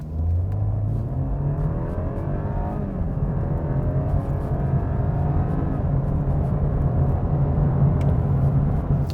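A 2021 BMW 3 Series sedan accelerates hard from 0 to 100, its engine note climbing steadily through the run and holding a loud, continuous drone to the end, with no voices.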